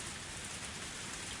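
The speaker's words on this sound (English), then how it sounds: "The rain was still pouring, and it was getting darker and darker." Steady, dense rain pouring onto a gravel road in a Higurashi When They Cry visual novel scene, a continuous close hiss with no voices over it.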